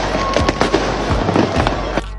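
Wartime explosion sound effect over the skies of Israel, rendered as a loud rapid series of cracking bursts and booms with a constant roaring background, like a barrage of blasts.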